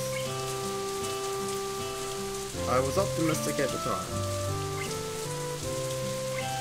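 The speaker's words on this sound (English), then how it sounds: "Water came down from the leaden sky in biblical proportions." Heavy summer rain in a visual novel, a steady hiss of falling water under soft piano music, with a brief burst of splashy drops midway and a voice talking over it.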